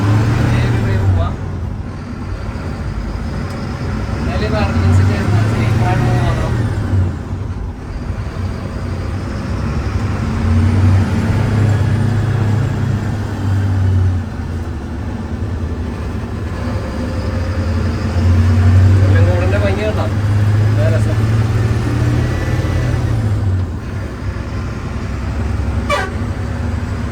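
A brand-new Bharat Benz Glider tourist bus on a drive near Kollengode, its engine humming steadily inside the cabin with repeated horn toots and tonal whines rising and falling, while people talk over it.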